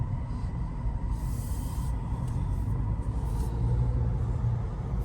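A 2025 Chevy Colorado ZR2 Bison pickup truck drives on the road, a steady low engine and tire rumble with road noise throughout, heard from inside the cab.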